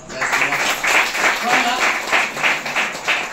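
Rhythmic group clapping at a Christian prayer gathering, steady beats roughly every third of a second, with a voice speaking over the claps throughout.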